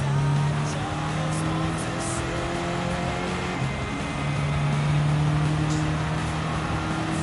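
A front-wheel-drive rally kit car in Gran Turismo 7 drones with a steady engine note that shifts pitch partway through, loud and continuous with faint tyre and road noise.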